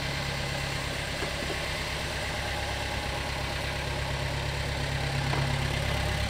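A Gehl 3510 skid steer loader's small engine idles steadily and close by, a continuous even rumble with no talking.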